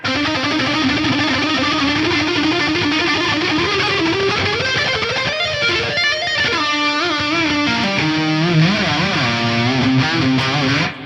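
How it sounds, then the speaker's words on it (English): A sustained, shimmering electric guitar line washed in heavy gold plate reverb and a wobbly dual detune thickness, loud and continuous with no voices. "Probably gold plate reverb, and a bit of dual detune on there."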